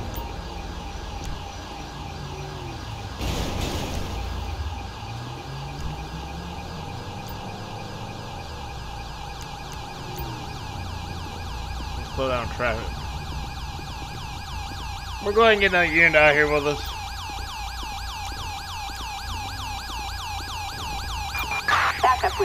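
Ambulance siren from Grand Theft Auto 5, played with the LSPDFR police mod, wails up and down in short bursts over game traffic noise, while radio-style voices talk throughout.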